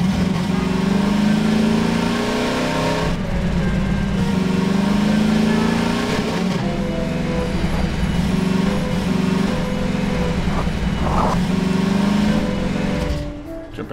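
A dune buggy engine in the video game Garry's Mod drones and revs steadily, its pitch rising and falling as it drives, loud and close throughout before cutting off at the end.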